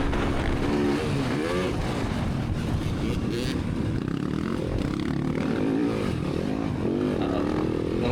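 A motocross motorcycle engine roars steadily throughout, its pitch sweeping up and down as the throttle is opened and eased during a race, loud and close for the full stretch.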